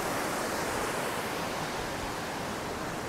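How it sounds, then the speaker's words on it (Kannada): A waterfall roars as a dense, constant wash of rushing water, loud and unbroken, heard near a forest roller coaster ride without any talk. "ನೀರು ಹರಿಯೋ ಶಬ್ದ ಕೇಳಿಸ್ತಾ ಇದೆ"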